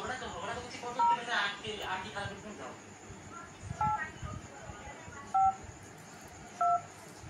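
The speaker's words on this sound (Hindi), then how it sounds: "फोन नंबर लगु" Several electronic phone keypad tones beep one at a time at uneven intervals as a number is dialed, while a person talks quietly in the background.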